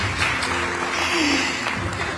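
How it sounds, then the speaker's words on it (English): Audience applauding at an awards ceremony honouring community heroes, a steady wash of clapping under a voice talking and a brief musical tone. "please give us a big round of applause"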